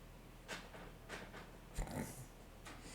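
A dog snuffling and making soft grunting, snorting noises close to a microphone, in a few brief bursts over a quiet background.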